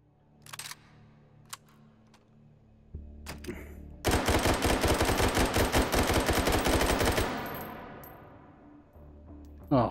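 Drum-magazine gun fired in the VR shooter Hot Dogs, Horseshoes & Hand Grenades, on an island facility map: a loud sustained burst of rapid automatic fire lasting several seconds, preceded by a few clicks and handling noises.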